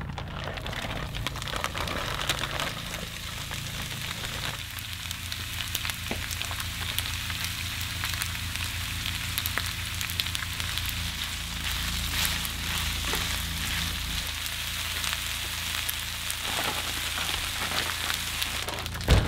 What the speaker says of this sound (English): I'm just gonna let that stir fry cook down a little bit.